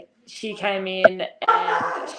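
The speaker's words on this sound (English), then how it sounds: "So sorry about the dogs there." Small dogs yip, whimper and bark in the background of an interview with a women's football player, brief sharp calls sounding under and between a woman's speech.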